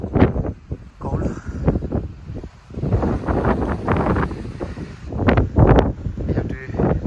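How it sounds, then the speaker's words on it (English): Strong, cold gusty wind on a Yorkshire peak buffets the microphone in loud, irregular bursts, roaring and rumbling throughout. "It's extremely windy"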